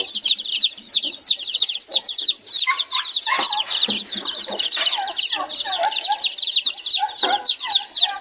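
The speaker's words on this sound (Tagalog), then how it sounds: "Napakarami nating manok" A large flock of farm chickens and newly hatched chicks cluck and peep together, dense overlapping high cheeping over scattered lower clucks, close and continuous.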